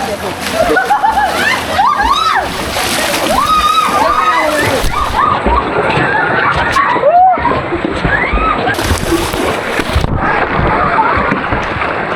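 People swimming in a river canyon on a North Bengal trek, with loud close water splashing and sloshing mixed with excited shouting and talk, plus some wind buffeting on the microphone.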